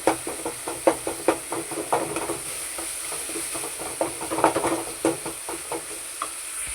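Tomatoes are mashed and sautéed in a pan for a Tamil egg vermicelli dish, with a spoon knocking and scraping in repeated sharp taps over a soft, constant sizzle, close and clear.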